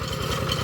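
A small three-gear engine in a rural well-drilling setting idles right after starting, giving a close, steady low throbbing rumble with an even pulse and no talk over it.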